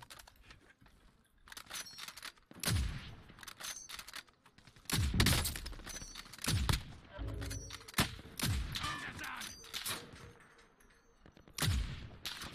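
Sporadic bursts of gunfire in Call of Duty: Modern Warfare Warzone, sharp cracks and short volleys spaced irregularly across the stretch, some loud and close, others fainter.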